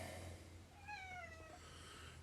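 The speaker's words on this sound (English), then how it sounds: "meow, there's General Diego" A cat gives a single short, rising-then-falling meow, clear but moderately quiet over a low steady background hum, with no talking around it.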